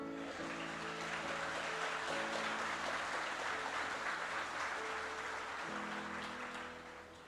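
Sustained applause from a church congregation during a sermon, a dense, steady wash of many hands clapping at once, loud and even throughout before tapering slightly at the end.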